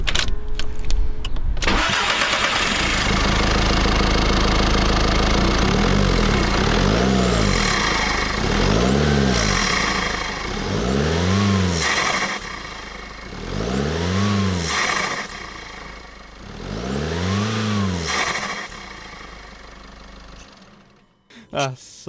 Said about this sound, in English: Let's give it a start up now, which is the main thing that we all want to hear.